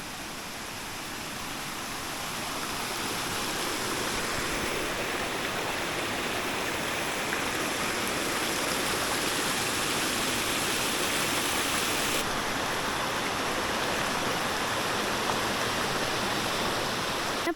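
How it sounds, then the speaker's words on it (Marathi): Village stream in rural Kokan rushing steadily nearby, a broad continuous roar of flowing water that grows slightly louder over the first few seconds and then holds even, with no voices. "पुढे व्हाळ पण आहे पाण्याचा"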